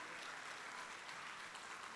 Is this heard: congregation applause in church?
yes